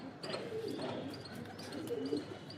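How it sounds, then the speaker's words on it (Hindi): A wild female pigeon among domestic birds gives soft, low coos in a few short phrases, with faint chirps and rustling nearby, moderately quiet and without talk. "ये कबूतरी आज बड़ी परेशान कर रही है जंगली"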